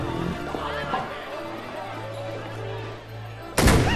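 A gunshot in a historical drama about the Russian imperial court: a single sharp loud crack near the end, after quieter dialogue and a low musical drone.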